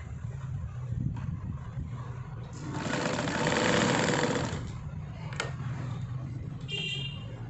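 A sewing machine runs in a short, even burst of rapid stitching as it joins fabric scraps. Before and after the burst there is a low hum and faint room noise.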